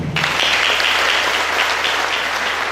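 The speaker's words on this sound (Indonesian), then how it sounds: "Tepuk tangan buat Tuhan." A church congregation applauds during a sermon, steady dense clapping that starts almost at once and fills the whole stretch at a loud, even level with no talk over it.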